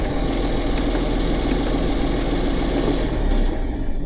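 A heavy equipment engine idles steadily and loudly with a deep, constant rumble and vibration, running alone without talk.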